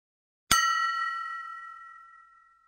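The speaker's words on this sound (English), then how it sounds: "on hitting the glass with a little more force, the glass made a louder sound" A glass is struck once with a spoon, given a harder tap, and gives a single bright, clear ding that rings on alone and slowly fades over a couple of seconds.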